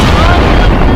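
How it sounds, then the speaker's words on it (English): Explosions at ballistic missile infrastructure and arsenal sites in Iran, heard as a loud, continuous, deep booming roar that fills the whole moment without a break. "The skies over Iran black with smoke, its ballistic missile infrastructure and arsenal steadily blowing up."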